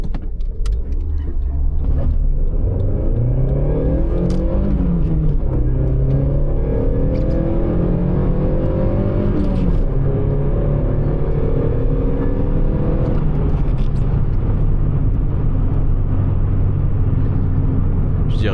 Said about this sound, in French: On va profiter de cette insertion pour tâter des performances de ce véhicule à l'aspect sportif